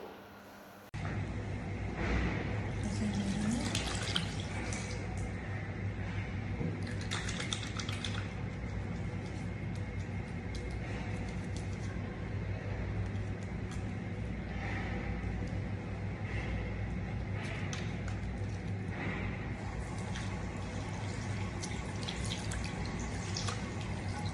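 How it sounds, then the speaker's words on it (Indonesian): Hands and face are washed with soap under a running tap, a continuous splashing stream with gurgling, dripping and rubbing sounds close by, steady throughout after a brief quiet start. "Baik, saya sudah selesai mencuci tangan dan muka"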